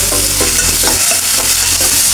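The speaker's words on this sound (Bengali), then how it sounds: "এখন আমি এভাবে তেল ভেজে নেব।" Oil with ginger-garlic paste frying in a pan, a loud, dense, constant sizzle with quick stirring scrapes, heard up close and alone.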